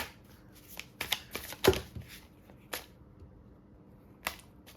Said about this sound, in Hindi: मैं कार्ड शफल करके आपके लिए कार्ड निकालती हूँ।